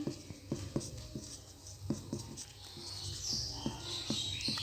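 Pen or chalk writing out notes in a soil science lesson, with light irregular taps and scratches, close and fairly quiet, and faint bird chirps in the background.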